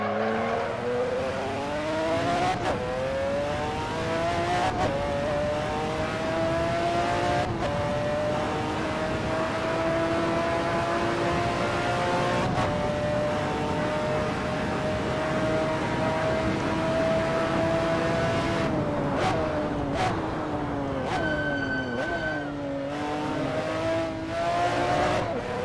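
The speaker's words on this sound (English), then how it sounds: "Some terrible downshifts there." A McLaren F1 GTR in the Assetto Corsa racing game holds a loud, steady engine drone, then drops pitch through several downshifts with sharp blips and a quick rising rev near the end.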